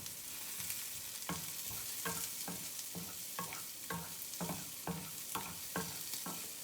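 Peppers frying gently over low heat in a pan are given a quiet stir, with soft rhythmic strokes about every half second over a faint continuous sizzle.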